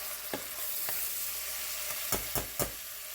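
Spoon stirring onion, black pepper and brown sugar sizzling in a hot pan; a steady close frying hiss with several sharp scraping strokes, clustered toward the end.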